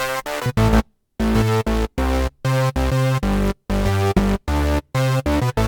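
A punchy synth pattern with EQ switched off, full, heavy low end, playing choppy stabbed chords separated by short gaps, including one longer silence near the start.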